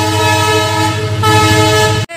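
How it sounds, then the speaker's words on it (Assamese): A train moves slowly past near Rangia Eco park, its loud horn blaring continuously close by over the rumble of the cars before cutting off abruptly. "ইমান আস্তে আস্তে যাই আছে ৰেলখন"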